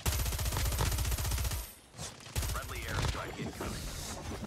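Rapid automatic gunfire in the mobile shooter game Call of Duty Mobile, loud bursts of machine-gun fire that break off briefly and resume, with a player talking over the shots.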